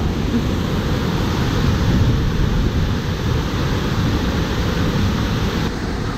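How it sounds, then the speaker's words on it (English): Crooked Falls waterfall roaring in a steady, loud, unbroken rush of water that fills the whole clip, with no voices. "that is one heck of a waterfall"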